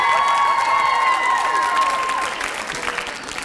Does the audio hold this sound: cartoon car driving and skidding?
no